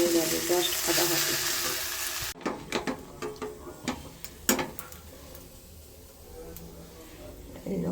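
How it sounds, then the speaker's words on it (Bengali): Potato-stuffed sandwich frying in refined oil and butter gives a steady sizzle, with brief clicks and stirring or pan-handling taps partway through. "এবার এখন হচ্ছে রিফাইন অয়েল বাটার দিয়ে এখন ভাজছি"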